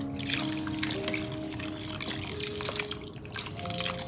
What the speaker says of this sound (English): I'm going to add some water and mix it